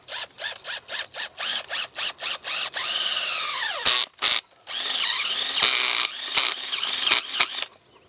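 A dirt auger drills into the ground to make a hole for canine sets, whirring in a rapid series of short bursts before settling into longer continuous runs, close and loud with brief stops between.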